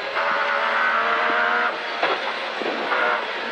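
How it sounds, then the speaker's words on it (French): Loud, steady mechanical whine and drone from a compact race car driving on track, with slight dips in pitch and brief surges, continuous throughout. "Le bruit des transmissions, il est ouf."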